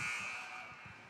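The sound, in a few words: final buzzer at end of high school hockey game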